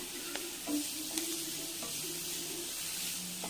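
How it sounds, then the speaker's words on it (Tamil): Vegetables sauté in a pan with turmeric and salt for a bread omelette, with a steady, close sizzle and a few light clinks and scrapes from stirring. "இதெல்லாம் போட்டு வதக்கிக்கலாம்"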